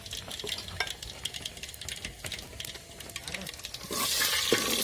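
Garlic frying in a pan with homemade red chili powder, a scraping stir clattering against the metal over a steady sizzle that grows louder and hissier near the end.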